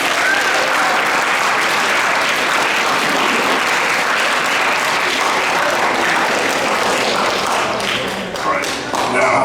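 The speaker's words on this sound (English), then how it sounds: "Can we please get a round of applause for backstage?" Applause for the backstage crew at a high school career panel fills the room, a dense steady wash of many hands clapping for about nine seconds before tapering slightly at the end.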